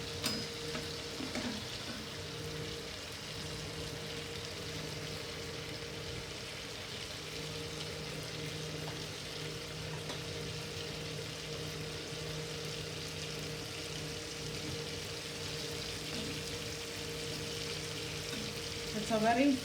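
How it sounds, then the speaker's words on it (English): Pieces of yam fry and roast in oil in a pan over a medium flame, with a continuous low sizzle and occasional faint stirring scrapes that grow busier at the end. "Now slightly increase the flame to medium and allow it to roast evenly"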